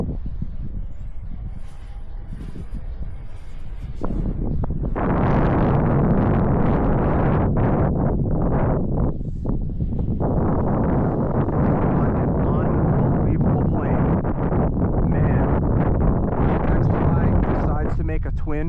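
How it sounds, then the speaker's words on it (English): Strong wind buffets the microphone at an RC jet flying field, a loud, continuous roar of gusts that rises sharply after a quieter opening and stays heavy throughout, with people talking under it. "This is how much wind there is."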